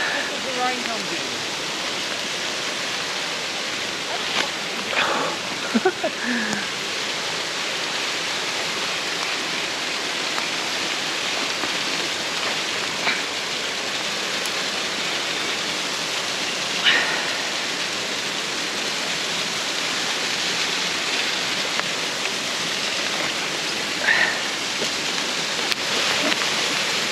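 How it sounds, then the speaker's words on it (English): Steady rain pours through a Western Australian southern forest near a waterfall, a dense, even hiss that holds for the whole stretch with only a few faint knocks and rustles, and no voices. "rain comes in."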